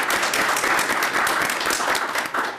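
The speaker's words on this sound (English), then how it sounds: "I'd like to give you a round of applause" A council meeting audience gives a steady burst of applause for newly appointed members, dense and even from start to finish.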